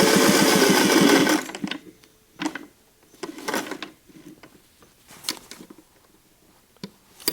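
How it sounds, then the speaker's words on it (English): A sewing machine stitches a patch onto fabric in a steady, fast run that stops after about a second, followed by scattered clicks and short bursts of handling and adjustment close by. "I'm just going to sew down this line and over and then stop."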